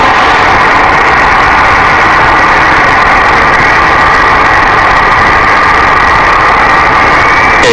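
An L-39 Albatross jet engine runs at idle after starting, giving a loud, steady, unbroken whine and roar with a strong mid-range tone and no pauses.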